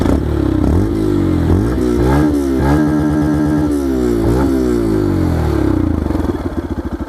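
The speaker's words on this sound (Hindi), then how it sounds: "now let's rev this motorcycle." Yamaha FZ-X 150cc motorcycle with a short, bass-heavy exhaust, revved repeatedly, its engine note rising and falling in several sharp throttle blips before settling into a pulsing idle, loud and close with no talk.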